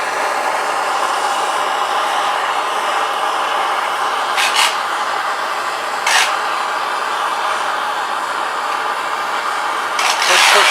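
A torch roars steadily and close while soldering the cone seam of a copper moonshine still, a continuous hissing rush with a few brief bursts of added flare.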